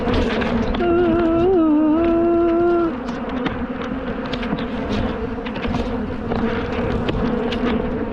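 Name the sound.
angry bees buzzing around hive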